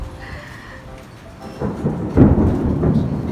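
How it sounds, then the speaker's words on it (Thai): Heavy rain pours steadily while thunder rumbles, swelling into a louder deep roll midway and lingering to the end. "ฝนกะตกฟ้าก็ร้องหนักมากเลยนะ"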